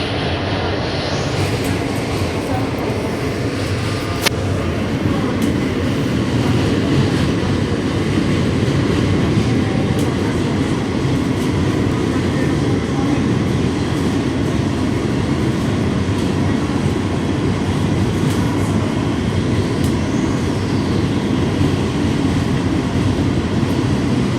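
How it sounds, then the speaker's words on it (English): A New York subway F local train bound for Coney Island–Stillwell Avenue rumbles along steadily with a loud, continuous roar and faint rail clatter, heard from on board for the whole stretch. "This is the Coney Island, Stillwell Avenue bound F local train."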